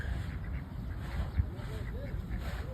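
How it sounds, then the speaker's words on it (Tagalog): Several ducks quack along the Khobar Corniche waterfront in a brief outdoor stretch, their calls mixed with people talking and background noise. "Nagtapos rito sa tatlong duck."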